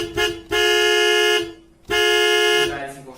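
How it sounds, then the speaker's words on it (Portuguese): Two long, loud blasts of a car horn, each held for about a second with a short gap between, sounding close and harsh with no talk over them. "Alguns exemplos de poluição sonora são buzinas de carro"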